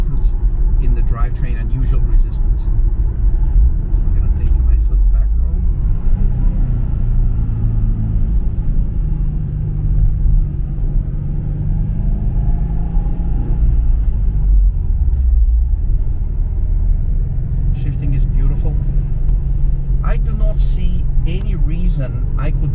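Engine and road rumble from a 2004 Subaru Impreza WRX STi driving along a back road, a steady low drone heard from inside the car with a voice talking over it throughout.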